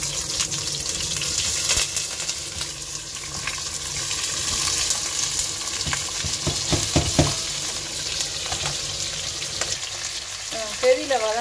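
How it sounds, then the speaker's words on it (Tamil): Onion, potato, garlic, ginger and curry leaves fry in hot oil with a steady close sizzle, and occasional stirring clatters and scrapes break in throughout at moderate loudness. "இனி வெட்டி வச்சுக்கிற வெங்காயம், உருளைக்கிழங்கு, உள்ளி, இஞ்சி, மற்றது கருவேப்பிலை எல்லாத்தையும் சேர்த்து போடுவோம்"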